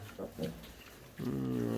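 Vietnamese pot-bellied piglets give two short grunts close by, followed by a longer, tonal squealing call, over a low background rumble.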